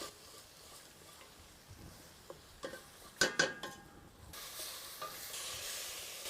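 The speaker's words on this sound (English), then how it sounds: "Fry that up nicely." Turmeric and red chili powder fry in a pan as a soft sizzle with clinks of a utensil against the metal and a short burst of stirring mid-way, fairly faint throughout.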